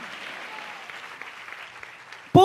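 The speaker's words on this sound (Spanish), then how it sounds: "Ay, dele el aplauso fuerte a su Padre." A church congregation keeps up steady, moderately distant applause for about two seconds, and then a loud voice cuts in right at the end.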